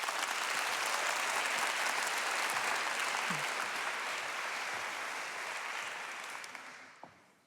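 Applause at a global health conference greeting a presenter, steady and dense for several seconds, then tapering off and fading near the end.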